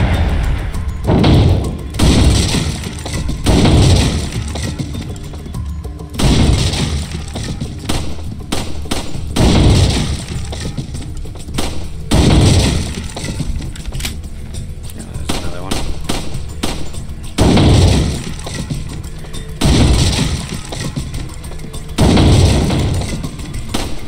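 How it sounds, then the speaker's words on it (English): Pistol shots at the shooting range in the video game Resident Evil 4 come as loud thudding bangs spaced a few seconds apart, with a voice talking between some of them. "This time we'll use the pistol just in case."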